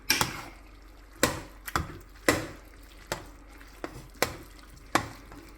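Ricotta pasta is tossed and stirred with a splash of pasta water in a pan, giving soft wet slaps and clinks of the utensil against the pan at a steady, uneven rhythm, close up.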